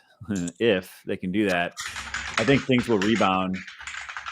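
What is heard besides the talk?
loud computer keyboard typing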